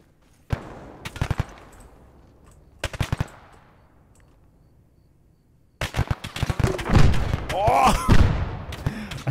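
Arma 3 gunfire: short bursts of rapid automatic shots near 0.5 and 3 seconds, then sustained heavy firing with overlapping shots and booms from about 6 seconds on, loud and close.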